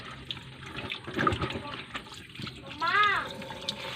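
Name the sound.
tap water running, washing chicken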